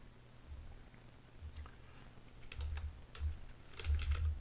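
Scattered keystrokes on a computer keyboard during data entry in email software, coming as a few quick clicks and short pauses, faint and close, with low thumps below.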